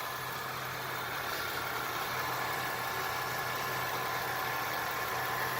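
A 1990–1992 Oldsmobile Toronado Trofeo engine idles cold, a steady, even, fairly quiet hum with broad hiss and no voices throughout.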